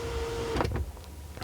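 Electric window blind in a 2004 BMW 760i E65 V12 sedan: a steady motor whine runs for about half a second, then a few mechanical clicks and thunks as it stops, quiet in the cabin with no talking.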